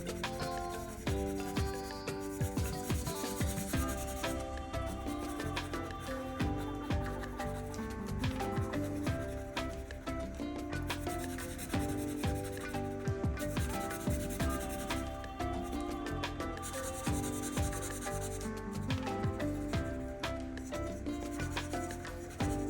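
A pencil or marker colours a drawing in blue on paper, giving continuous close rubbing and scratching strokes in a quick, even back-and-forth rhythm over faint background music.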